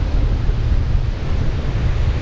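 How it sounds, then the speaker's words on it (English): Steady wind buffeting a microphone on the coast during an evening bass fishing trip, a continuous low roar with a surf-like wash, constant and close, no voices. "It is pretty windy"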